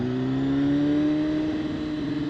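A 2016 BMW S1000RR sport bike in race mode, its engine droning loudly and steadily up close with a rising whine as revs climb, no talking over it.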